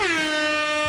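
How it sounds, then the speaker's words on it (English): A single loud air horn sound effect blares for about a second, a bright, harmonically rich tone with a slightly falling pitch. "He put in all the air horns and all the sound effects."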